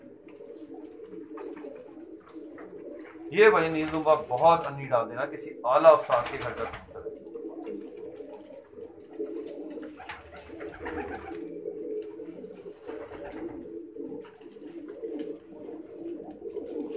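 Pigeons in a loft coo in a rolling, throaty run near the start, then softer coos continue while someone talks nearby over steady background hum.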